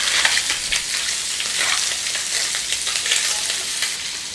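Small nethallu fish crisp up in a masala fry with a loud, continuous sizzle and crackle of hot oil, along with some stirring scrapes. The sound is close and runs throughout, with no voices over it.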